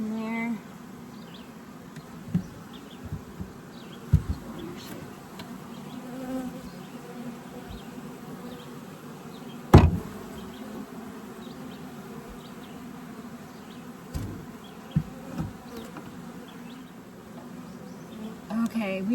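A steady buzzing drone of many honey bees fanning close by in a Layens hive swarm trap, with occasional louder individual buzzes and a few soft knocks.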